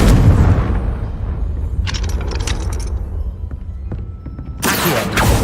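A Confringo fire spell in Hogwarts Legacy strikes near a gate, giving a loud booming blast at the start, clattering debris and metallic rattles after, then a second sharp burst near the end.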